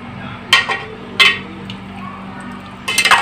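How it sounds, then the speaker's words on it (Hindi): Spoon clinks and scrapes against a pot or bowl while chopped green chillies are stirred into a dish, a few sharp metallic knocks spaced over a few seconds, with a faint steady hum underneath. "कटी हुई हरी मिर्चें शामिल कर देंगे, अब इसको अच्छी तरह से मिक्स कर लेंगे।"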